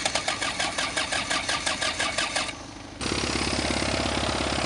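Car engine cranking with a rapid rhythmic starter whir, pausing briefly, then catching into a steady close idle during a check of whether the alternator is working.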